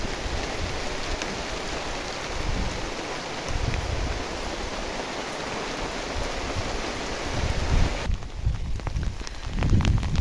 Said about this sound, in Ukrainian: Дітей канікули, дощ іде.